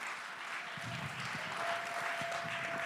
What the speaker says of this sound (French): donnez-moi l'applaudissement au Seigneur